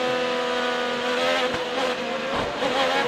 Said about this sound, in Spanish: Ustedes van a escuchar que Will Power sí acelera y desacelera para no llevarse al auto de delante